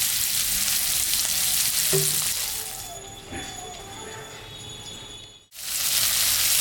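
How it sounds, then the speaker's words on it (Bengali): Onion, ginger and a chilli sizzle steadily in hot oil in a pan, with a few light stirring clinks. The frying cuts out abruptly for a moment near the end, then resumes. "তেল ভাজাটার মধ্যেই পেঁয়াজ, আদা আর একটা লঙ্কা আমি দিয়েছি। এটা একটু ভাজা ভাজা করে নেব।"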